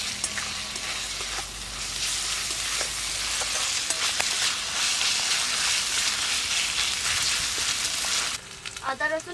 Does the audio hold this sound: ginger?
yes